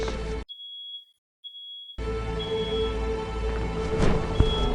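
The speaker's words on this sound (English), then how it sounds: "I need to turn off this stupid fire alarm. For some reason, it's going off like crazy" A smoke or fire alarm sounds a thin, steady high-pitched beep, broken once by a short gap, faint and alone while other sound drops out.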